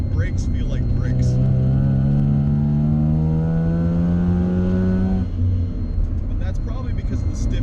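A car engine, Mazda RX7 or Nissan 300ZX, revs hard at high RPM, a loud rising tone climbing steadily for about five seconds before cutting off, with a voice speaking over it.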